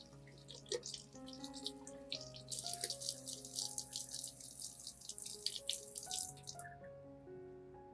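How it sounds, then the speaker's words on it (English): Running tap water rinses orchid roots, a steady splashing stream with dripping and gurgling, heard close over a background of sustained music tones before the flow stops near the end. "Gently rinse the entire base and root system to remove small pieces of moss, dirt, and any remaining damaged tissue."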